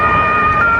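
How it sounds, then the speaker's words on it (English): Ambulance siren at the scene of a crowded pre-Christmas market incident, a steady loud wail running through the whole short moment with no talk. "Ambulances and emergency services scramble to help those they can"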